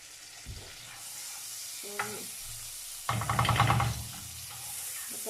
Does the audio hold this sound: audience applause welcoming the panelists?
no